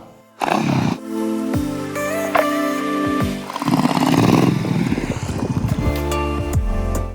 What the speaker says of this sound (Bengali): সামনে দুটি খুব স্টাইলিশ বাইক দেখে এগিয়ে যাই